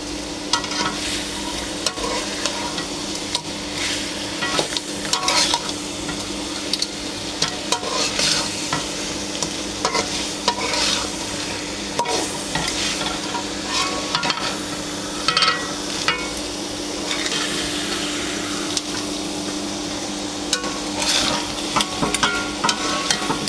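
Crab sautés in oil in a pan, a continuous sizzle broken by frequent scraping and clattering stirs of a utensil against the pan, close and busy throughout.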